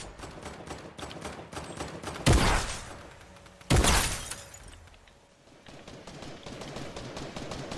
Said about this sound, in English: I hear niggas shooting down there.